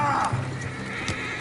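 A horse in Red Dead Redemption 2 lets out a short neigh, followed by a few hoof clip-clops, close and brief, with a voice briefly heard.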